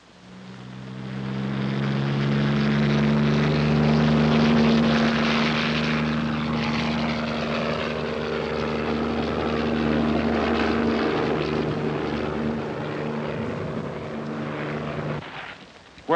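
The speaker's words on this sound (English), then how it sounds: "Plane is coming." A propeller-driven plane drones steadily overhead, arriving near a lakeside beach and holding a loud, continuous engine hum with a low buzzing tone for the whole stretch, with no voices.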